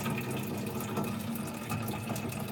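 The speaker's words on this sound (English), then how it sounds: "I just have to fill my water bottles up." Water runs steadily from a tap into water bottles as they fill, a continuous close gushing and splashing with no talking.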